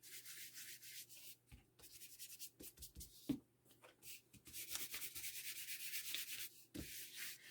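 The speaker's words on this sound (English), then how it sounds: "I'm not heavy distressing, but I do want a little bit on the edging here as well." Edges of old book pages being distressed for a flip book, a dry papery rubbing and scraping in quick irregular strokes, close and soft, with short pauses between passes.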